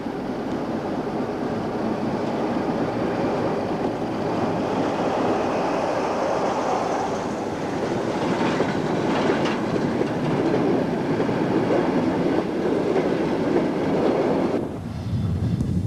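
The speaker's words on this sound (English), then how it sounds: "This Class 47 was heading a ballast train towards Eastgate." A Class 47 diesel locomotive hauling a ballast train toward Eastgate, heard as a continuous rolling rumble of wagons with clickety-clack of wheels over rail joints, steady and fairly close, with no voices.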